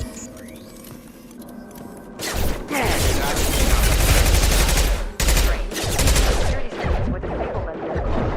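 Sustained heavy gunfire in a Mass Effect 2 firefight, loud and continuous after a quieter opening, with rapid bursts that briefly drop out around the five and six-and-a-half second marks.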